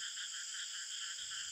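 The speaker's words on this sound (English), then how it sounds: "These frogs are the most beautiful among the members of the family Ranidae" A fungoid frog of the Western Ghats calls with a rapid, steady pulsing croak, a continuous buzzy trill close to the listener.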